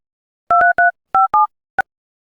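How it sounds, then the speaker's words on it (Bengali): Telephone keypad dialing tones: five sharp, loud electronic beeps in quick uneven succession, followed by one short final blip, alone against silence. "দেখি, একটু ফোন করে দেখি আজকে আসি কি"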